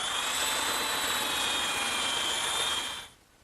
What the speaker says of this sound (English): I'm just going to use my little belt sander.